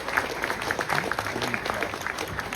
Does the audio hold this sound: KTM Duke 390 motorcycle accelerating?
no